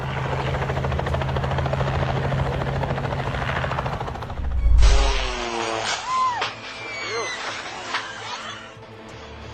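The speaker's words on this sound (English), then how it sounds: "The Robinson helicopter was caught on camera flying at an extremely low altitude" A low-flying Robinson helicopter clips treetops, its loud rotor thumping and engine drone steady at first, then a sharp burst of noise and a drop to scattered sounds with voices talking.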